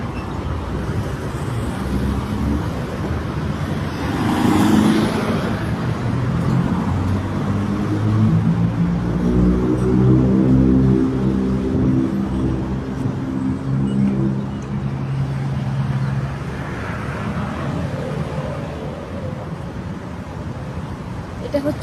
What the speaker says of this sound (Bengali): এটা হচ্ছে একটা রাস্তা